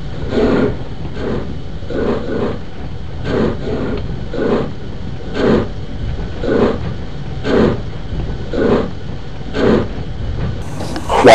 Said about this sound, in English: So, Jerry coupled to the freight train and happily steamed away